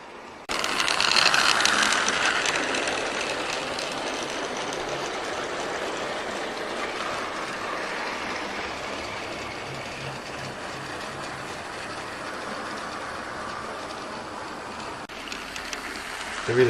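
GWR locomotive hauling three Hawksworth coaches and a B-set Suburban brake at a railway festival, a continuous close mechanical clatter and rumble of wheels and motion, steady for about fifteen seconds before easing off.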